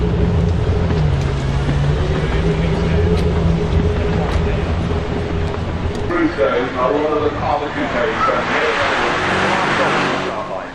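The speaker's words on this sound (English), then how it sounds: "That's the Vantage. Vantage, yes, I think it. Yes, it is 4 litre." Aston Martin Vantage with a 4-litre engine at the Festival of Speed 2025, rumbling, then rising in pitch as it accelerates in the second half. Voices talk over it.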